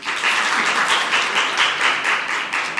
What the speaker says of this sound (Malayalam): അന്നാ ഒന്ന് കൈയടിച്ചേ.